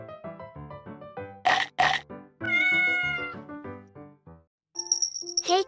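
Cat meowing up close, a run of several loud, drawn-out meows and short chirps in quick succession, ending with a light jingle.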